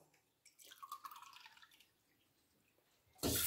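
Water poured from a glass into a pot of washed rice, a short splashing trickle followed by quiet, then a louder sudden rush of pouring at the end.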